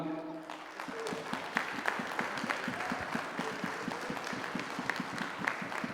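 A comedy show audience in Bangkok claps steadily and fairly evenly, a sustained round of applause heard from within the room.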